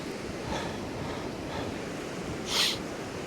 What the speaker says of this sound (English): But that wind's pretty fresh.